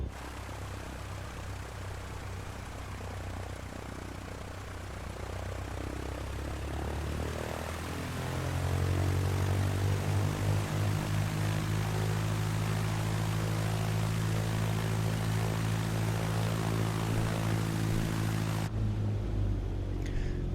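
A simulated L-4 Grasshopper light aircraft's propeller engine in a flight simulator starts and settles into a steady droning idle, moderately loud, with no talking.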